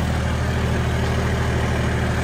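A John Deere 5310 tractor engine labours under heavy load in a field, a steady, loud, low diesel drone that runs continuously with its revs sagging, and no one speaks over it.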